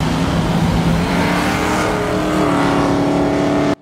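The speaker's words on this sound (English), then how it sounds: "Oh, the engine's back up." Car engine roaring and revving in a Mad Max: Fury Road action scene, a loud sustained growl with steady harmonic drone throughout, cutting off abruptly at the end.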